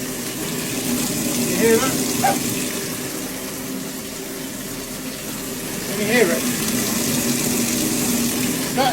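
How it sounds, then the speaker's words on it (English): Water gurgling and draining down a bathroom plug hole while the tap is off, a steady rushing wash with a few louder swells, heard under a voice talking close by. "You can actually hear water going down the plug hole."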